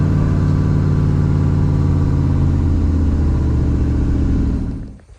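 Steady, loud car engine running at low speed with a deep, clattering rumble like a diesel tractor, continuous throughout before cutting off abruptly at the end.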